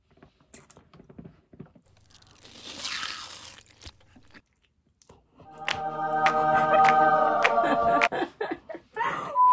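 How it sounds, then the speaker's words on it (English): Someone bites into a cheese nugget, giving a few crisp crunches near the mic, followed by laughter and giggling voices. "Cheese nugget ASMR."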